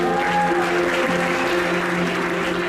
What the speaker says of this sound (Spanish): Un aplauso al Rey